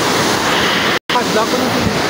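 Water rushing steadily at a waterfall over rocks, a loud continuous roar with no break except a brief dropout midway, close to the listener.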